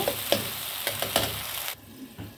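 Tomato paste and asafoetida sautéing in a pan, a close, steady sizzle with stirring scrapes that drops suddenly quieter near the end as the pan is covered.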